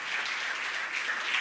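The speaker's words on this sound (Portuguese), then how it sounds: "Se coloque de pé, aplaude o nome do Senhor" Congregation applauding in church, a dense steady wash of clapping from many people, fairly quiet and distant, with no voices over it.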